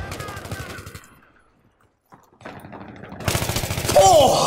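Bursts of automatic gunfire in the video game Battlefield 3, a rapid rattling volley, then a brief quiet gap before a louder, denser burst of shots near the end.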